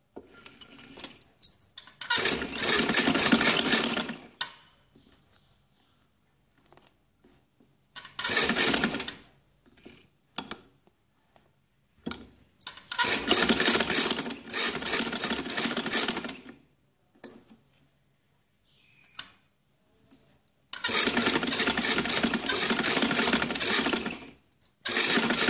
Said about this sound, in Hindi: मैं इसकी सिलाई स्टार्ट करूँगी